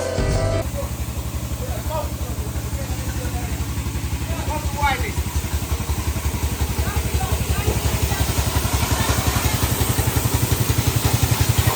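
A pressure washer machine at a car wash runs nearby with a loud, steady motor drone and rapid rhythmic pulsing, while people talk faintly over it.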